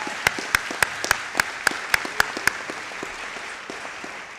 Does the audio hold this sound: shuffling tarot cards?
no